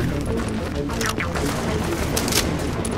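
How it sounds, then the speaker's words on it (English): A grenade goes off amid dense, continuous gunfire in the video game Tom Clancy's The Division, a loud sustained barrage of overlapping shots and booms with no pause. "Let's just throw this grenade in"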